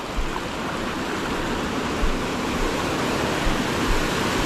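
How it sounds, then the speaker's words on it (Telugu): Ethipothala waterfall gives a constant, close hiss of rushing and splashing water that stays even throughout, with no talking. "వాటర్ ఫాల్ ఇలా వెళ్ళి అలా కిందకి వెళ్తుంది."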